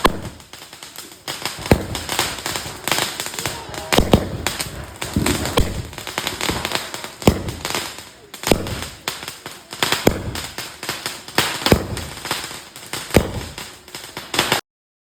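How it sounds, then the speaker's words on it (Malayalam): Sky-rocket firecrackers burst repeatedly during a Vishu celebration outdoors, a rapid string of sharp cracks and pops crowding the whole stretch, loud and near with a brief lull before a second burst of bangs. "പിന്നെ ഞങ്ങൾ മുകളിലോട്ട് പോകുന്ന ഒരു പടക്കം പൊട്ടിച്ചു"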